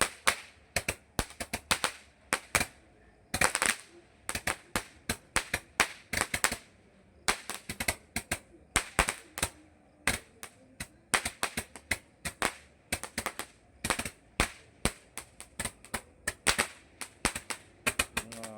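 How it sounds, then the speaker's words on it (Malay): A 100-shot firework cake goes off in preparation for Gawai, firing a long string of sharp, loud cracks in rapid, uneven bursts with brief pauses between volleys. "Ini dia 100 das tembakan bunga api"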